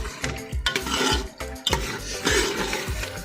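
Yogurt is stirred into meat in a cooking pot for turnip meat (shaljam gosht), the spoon scraping and clacking against the pot in quick rhythmic strokes, with a soft sizzle underneath.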